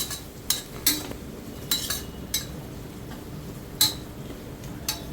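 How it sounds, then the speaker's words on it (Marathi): A spoon scrapes and clinks against a pan while spices are mixed into onion and potato for Khandesh-style khichdi, with irregular sharp metallic taps over a quiet background. "इथे मी कांदा लसूण मसाला टाकत आहे आणि व्यवस्थित मिक्स करून घेत आहे"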